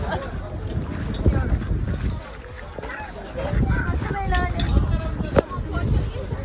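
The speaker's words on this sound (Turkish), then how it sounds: "rüzgar geliyor ama o kadar çok fazla değil" Gusty wind buffets the microphone with low rumbling bursts outdoors in Antalya, Turkey, and voices talk intermittently over it.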